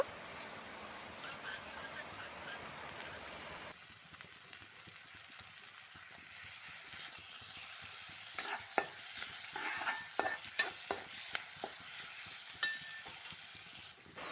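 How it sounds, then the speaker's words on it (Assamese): Onion frying with ginger-garlic paste for egg curry sizzles steadily in a pan, a close, continuous hiss joined by a series of scraping stirs in the second half, with no talking. "আদা নহৰুখিনি কেঁচা গোন্ধ যোৱালৈকে ভাজি"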